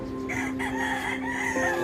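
A rooster crows loudly and close, a long drawn-out call, with hens clucking around it.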